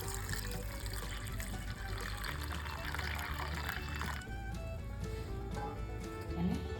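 Water is poured over ker berries soaking for pickle, a continuous splashing pour that fades into a trickle, with no talking.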